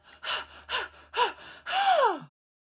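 Several loud huffing and puffing breaths in quick succession, ending in a long drawn-out panting exhale, with no talk in between and nothing else behind them.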